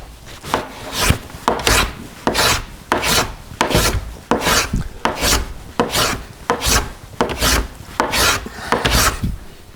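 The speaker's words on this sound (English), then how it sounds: "Planing" Hand plane shaving highly flamed maple for a violin, a regular series of about a dozen rasping strokes, close and loud, each a short scraping swish with brief pauses between.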